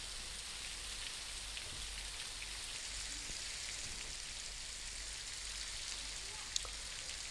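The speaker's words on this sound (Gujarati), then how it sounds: "જિલ્લાના જુદા જુદા વિસ્તારોમાં વહેલી સવારથી જ વરસી રહ્યો છે વરસાદ" Steady, even early-morning monsoon rain patters down in a constant hiss in Surat district, with no voices and only one brief sharp tap near the end.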